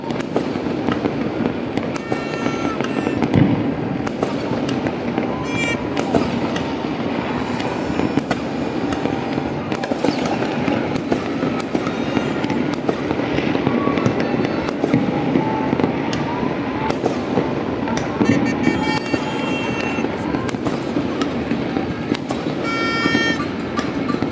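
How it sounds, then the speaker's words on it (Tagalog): Fireworks going off outside at New Year 2024, a dense continuous stream of crackling, popping bursts at middle distance with a few louder booms mixed in, plus faint voices in the background. "manood ng fireworks dito"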